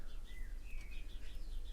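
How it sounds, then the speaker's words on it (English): Small birds chirp and tweet in short bright calls from hanging baskets in a sunny garden, moderately close over a low steady background hum. "there are the birds in the hanging baskets"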